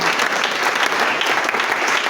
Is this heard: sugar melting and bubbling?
no